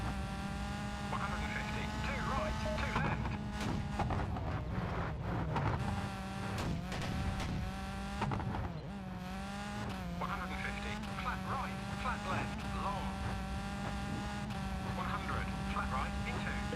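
Rally car engines in the PS2 game V-Rally 3 drone at a steady pitch that rises and falls with gear changes, with brief tire scrabble, all held at a low, even level beneath someone talking throughout.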